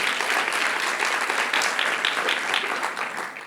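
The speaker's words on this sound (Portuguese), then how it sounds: "dá uma salva de palmas a Jesus aí onde você está" A church congregation claps for Jesus in dense, lively applause that stays strong for about three seconds before starting to taper off.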